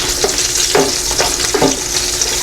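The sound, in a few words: pork pieces frying in oil, flipped in pan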